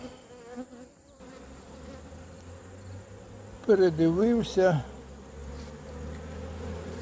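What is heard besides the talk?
bees buzzing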